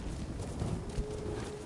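Hooves of the horse Kage clip-clopping in Ghost of Tsushima, a faint, steady walking rhythm under background game ambience.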